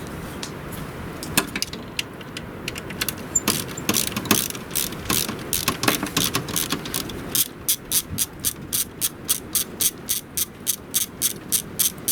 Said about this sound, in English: we can now loosen up the tensioner, which will cause the alternator to drop downward, loosening the belt